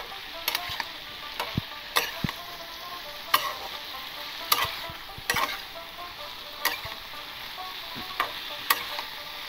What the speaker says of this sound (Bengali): এবার বন্ধুরা এবার ভেজে রাখা সেই আলুটা দিয়ে দিলাম এর মধ্যে, দিয়ে ভালো করে নেড়ে ঢেকে দেবো।